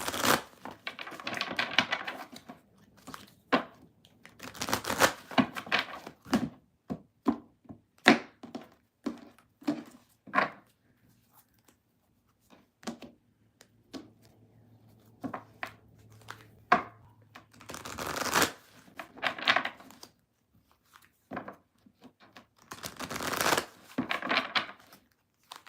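A deck of cards is shuffled repeatedly in quick riffling bursts, close and crisp, with brief pauses and a faint low hum between rounds and no talking.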